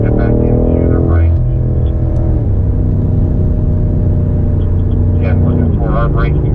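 BMW M5 Competition engine droning loudly on the Indianapolis Motor Speedway F1 road course as the driver comes on the throttle out of a corner, a continuous close rumble with the pitch slowly rising, under a voice.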